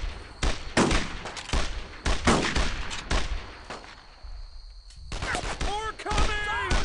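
Heavy World War II gunfire and incoming fire in Brothers in Arms: Road to Hill 30: loud, rapid bursts of rifle and machine-gun shots in clusters, a short lull, then more volleys with shouted voices among them.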